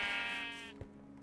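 A Minecraft sheep gives a single close bleat, a wavering nasal call that fades after about half a second, with a soft thud and quiet game ambience afterward.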